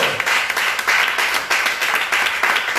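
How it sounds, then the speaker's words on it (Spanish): Loud, steady clapping from a church congregation fills the space, a dense crowd applause with rhythmic surges and no voices over it. "Denle fuertes palmas al Señor."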